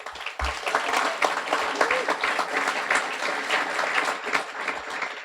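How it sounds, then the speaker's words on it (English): An audience at a guide dog school graduation ceremony breaks into a warm round of applause, dense clapping that builds and holds for several seconds. "Warm round of applause for Nick."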